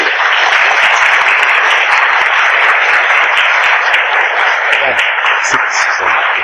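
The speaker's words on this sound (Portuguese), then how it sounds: "Eu quero que vocês recebam, nesse domingo espetacular que estamos iniciando, uma grande salva de palmas" Loud, sustained applause from an audience welcoming a guest speaker on a Sunday gathering, dense clapping filling the room steadily and evenly throughout.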